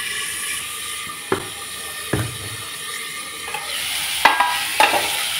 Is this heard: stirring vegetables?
yes